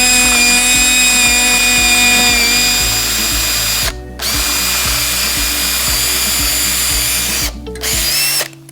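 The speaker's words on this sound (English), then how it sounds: "Time for drilling." A power drill bores a hole in wood for a dragon fruit trellis, giving a loud, steady whine that runs for several seconds, stops briefly, resumes, then cuts off near the end.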